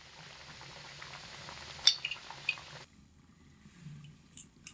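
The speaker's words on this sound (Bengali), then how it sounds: "এবার এর মধ্যে আমি ঢাকা চাপা দিয়ে মিডিয়াম আঁচে রেখে 6 থেকে 7 মিনিট পর্যন্ত ফুটিয়ে নেব।" Tilapia fish curry simmers in a covered pot over medium heat, giving a faint, soft bubbling with a few light clinks that drops quieter partway through.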